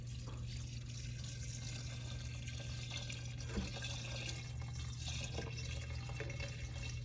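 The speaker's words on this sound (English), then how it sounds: "I think you should just pour the whole bucket of water." A bucket of water is poured out in a steady, fairly faint splashing flow with some dripping, continuous throughout.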